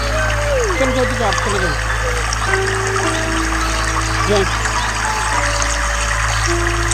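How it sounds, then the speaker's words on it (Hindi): Clear water runs under a bridge in the Peak District with a steady rushing trickle, while someone talks over it. "ये देखिए यहाँ से कितना प्यारा शफाफ पानी जो है ये पुल के नीचे से गुजर है"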